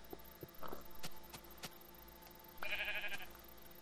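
Sheep in a video game giving two short, fairly faint bleats, with scattered clicks and light taps between them over a quiet background.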